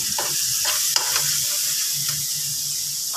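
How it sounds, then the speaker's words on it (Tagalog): Garlic, onion, tomato and lemongrass sauté in a pan for mussels, giving a loud continuous sizzle broken by several stirring swishes and a brief clink of the utensil, with no talk. "Gisa po tayo ng bawang, sibuyas, kamatis, at ang ating tanglad."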